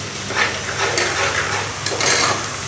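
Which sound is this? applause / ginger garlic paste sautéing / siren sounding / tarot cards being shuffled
ginger garlic paste sautéing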